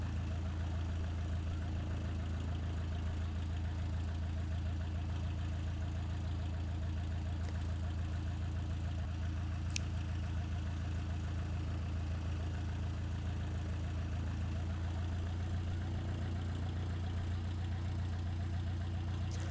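Aircraft engine in Kerbal Space Program running with reverse thrust, a steady low droning hum that holds at an even loudness throughout, with no talk over it.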